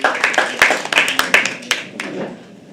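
Clapping from a live poetry open mic audience rises and falls in a dense patter of many hands, with loud individual claps standing out before it thins at the end; a voice speaks along with it.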